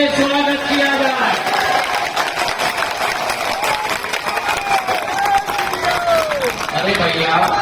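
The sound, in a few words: applause welcoming Yogi Adityanath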